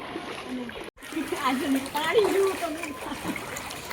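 Feet splash and slosh through knee-deep rainwater flooding a residential housing society, the churning water steady and close while voices talk over it.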